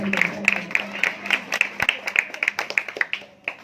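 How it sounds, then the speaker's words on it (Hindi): A church congregation applauds as the senior pastor is welcomed, brisk rhythmic clapping from many hands filling the room steadily, with a voice speaking briefly over it early on. "आपकी जोरदार तालियों में सीनियर पास्टर असलम गिल आएंगे"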